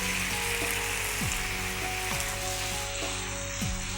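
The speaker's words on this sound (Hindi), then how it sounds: "तो ये जो हमारे मशरूम्स हैं ये लगभग 1 मिनट तक सॉसेस के साथ पक रहे हैं" Mushrooms stir-frying with sauces and black pepper in a pan, giving a steady close sizzle with occasional soft stirring scrapes throughout, no talking.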